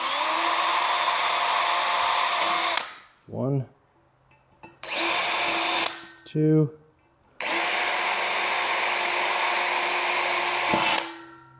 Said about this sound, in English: So I'm pre-drilling.